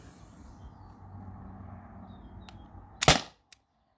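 Single air pistol shot from a T4E TR50 or Beeman BP50, preceded by low quiet background rumble and a faint click. One sharp loud crack lands near the end and is followed by a tiny tick and then silence.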